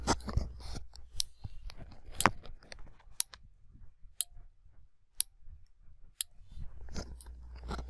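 A relay module clicks in sharp, isolated ticks about once a second, switching on a one-second delay in a quiet setting, with faint handling noise between clicks and no voices.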